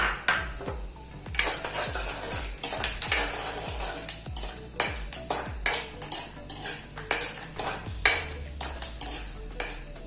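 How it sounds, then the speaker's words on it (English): Groundnuts fry in a hot pan until they turn brown, stirred in a steady run of scraping, clattering strokes about twice a second over a faint background sizzle. "When groundnuts are becoming brown like this"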